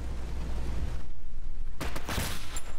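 Gunfire rattles in the S.T.A.L.K.E.R. Gamma video game during a firefight, with a dense burst of loud reports followed by another sharp shot near the end.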